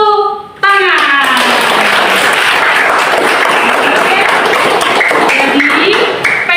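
Classroom of fourth-grade children clapping together, a loud sustained burst of applause that starts abruptly after a brief spoken voice and carries on steadily to the end.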